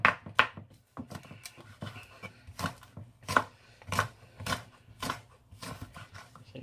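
An onion-like vegetable chopped with a knife on a board, a run of crisp irregular taps close by, about a dozen cuts over several seconds with short pauses between them.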